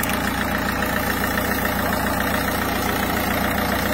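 A Citroën C4 Picasso 1.6 HDi diesel engine idles steadily and evenly, with a constant close-up mechanical hum and no break or change in pitch.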